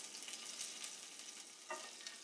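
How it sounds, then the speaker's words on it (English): Steady, crackling sizzle of chopped rosemary frying in hot olive oil in a pan, close and continuous with small spitting pops. "Oh, it's already sizzling."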